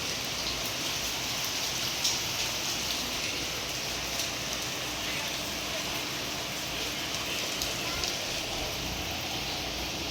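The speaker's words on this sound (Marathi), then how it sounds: "सकाळ सकाळी पाऊस सुरू झाला आहे" Steady morning rain falls outdoors as a continuous, even hiss of drops with no pauses or distinct strikes, fairly soft and unbroken throughout.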